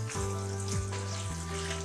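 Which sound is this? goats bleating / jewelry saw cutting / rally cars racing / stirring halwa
stirring halwa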